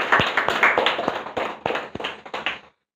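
A church congregation clapping together at a Sunday service, a sparse run of distinct, fairly loud claps that builds briefly and then cuts off into silence.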